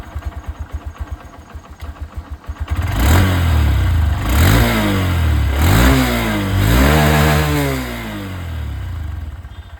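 A Honda SP125 motorcycle engine idles with a steady putter, then its exhaust roars through several sharp revs that rise and fall, close and loud.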